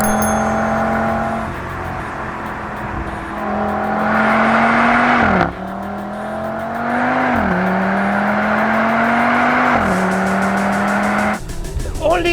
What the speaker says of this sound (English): this is also a good car to drive when you take this on a racetrack, which we shall do now